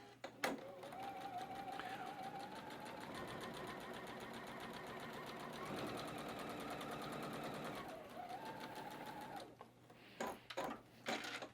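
A sewing machine stitches a patchwork zigzag quilt border, running in a steady rapid whir for several seconds with small shifts in pitch, then stopping before a few handling clicks.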